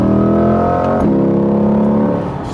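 A 2020 Corvette Stingray C8 Z51 accelerates at full throttle, its engine roaring loud and close, climbing in pitch, dropping briefly at a quick gearshift, then pulling hard again before easing off.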